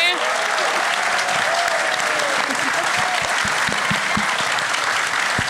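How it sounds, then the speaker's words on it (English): Loud audience applause for panelists at a symposium, a full, sustained roar of clapping with crowd voices and cheers mixed in, filling the hall at close range. "Can I get one more round of applause for all of our panelists today?"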